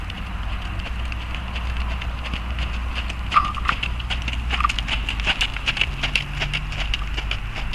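Hooves of a ridden horse clop along at a steady gait, soft repeated thuds mixed with outdoor rumble and low wind noise, moderately distant and unbroken by voices.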